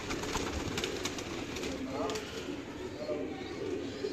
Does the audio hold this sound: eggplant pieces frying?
no